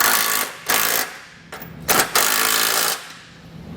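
A power tool with a 15mm socket snugging trailer hitch bolts on a 2018 Chevrolet Traverse, several short whirring bursts and one longer run of about a second, close and loud.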